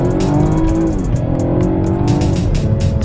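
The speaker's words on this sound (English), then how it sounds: "that shifts incredibly fast for me, especially for a regular sporty luxury coupe" A BMW 428i coupe with a four-cylinder engine accelerates hard and loud, its steady drone rising through the revs, with quick gear shifts briefly dipping the pitch before it climbs again.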